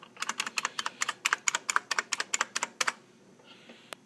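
Number keys typed on a Unicomp Classic 104 USB Model M buckling-spring keyboard, a quick even run of about twenty loud, crisp clacks close up, ending in quiet.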